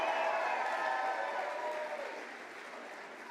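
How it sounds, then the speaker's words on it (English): Audience applause at a political rally in Colorado, a dense crowd clapping loudly at the start and gradually fading over a few seconds. "Let's have another round of applause for Isaac James."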